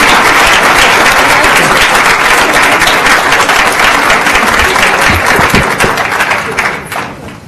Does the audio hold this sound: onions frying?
no